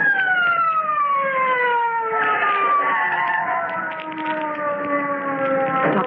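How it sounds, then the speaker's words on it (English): A police car siren from an old-time radio drama wails continuously in a loud, steady up-and-down tone that slowly drops in pitch as it passes, with no talk over it. "Police car."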